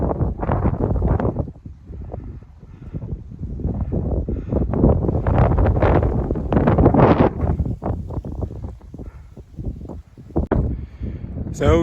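Strong wind on a mountain summit at about 2,300 feet buffets the microphone in loud, uneven gusts, a rough continuous roar that swells and dips throughout.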